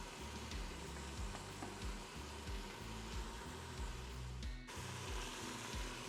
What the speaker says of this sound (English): the goal here is just to soften these onions.